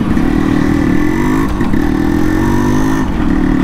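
Yamaha RX100 two-stroke motorcycle engine revving loudly and steadily up close, the exhaust note holding a continuous throbbing drone with slight dips around the middle and near the end.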